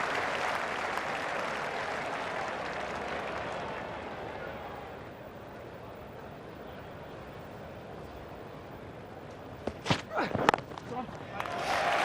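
A cricket crowd at Trent Bridge applauds and cheers a six during an England versus Australia Ashes Test in 2005, a broad roar that fades about halfway, followed by a few sharp knocks and thumps near the end.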